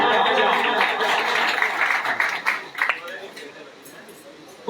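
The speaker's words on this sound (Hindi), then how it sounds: "भाई जोरदार तालियां" A crowd at a pigeon club prize ceremony applauds in dense clapping that thins and fades over a few seconds, with a voice audible over the clapping.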